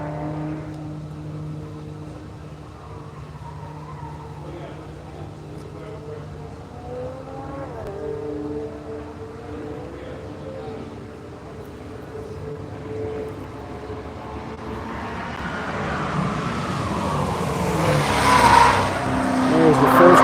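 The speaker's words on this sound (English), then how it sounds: "I hear the E-Ray back there on the back side of the track making E-Ray type noises." Corvette E-Ray on a race track during a One Lap of America event, heard as a distant engine and tire noise that swells closer toward the end, with people talking throughout.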